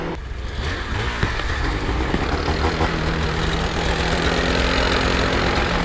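A 2025 Arctic Cat ZR 858 Catalyst snowmobile's big two-stroke engine running at a steady rumbling idle, close and loud throughout, with a faint knock under the drone and no talk.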